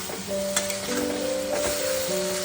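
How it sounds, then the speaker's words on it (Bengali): Poppy seed paste sizzles and fries in a pan with potato and vegetable stems, a steady close hiss with stirring scrapes, and some tonal ringing in the background. "পোস্ত বাটাটা দিয়ে একটু কষিয়ে নেব, খুব বেশি কষাবো না"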